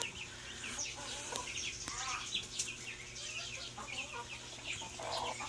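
Several broiler chickens cluck and chatter continuously nearby inside a chicken house, overlapping calls against a steady background hum, with occasional louder squawks.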